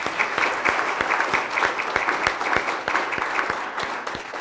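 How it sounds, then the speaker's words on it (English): An audience at a student essay forum gives a round of applause, even continuous clapping with a few distinct claps standing out, steady and moderately loud from start to finish. "let's hear another round of applause"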